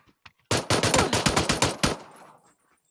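Gunfire in a video game: a couple of faint single shots, then a rapid, close, loud burst of about ten evenly spaced automatic rounds that cuts off sharply, followed by a short quiet tail.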